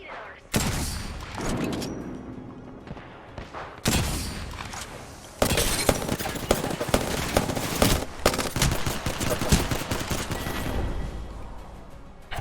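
Rapid gunfire in a first-person shooter video game, with loud bursts of automatic fire and fusillades that stop and restart several times over a steady game background.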